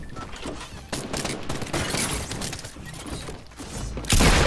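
Dense Fortnite gunfire in a chaotic firefight, with rapid cracks and crashes overlapping almost continuously and a louder burst near the end.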